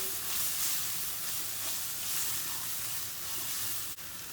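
Tomato paste and flour fry in a pan with a steady, bright, hissing sizzle that holds evenly throughout. A single faint click sounds near the end.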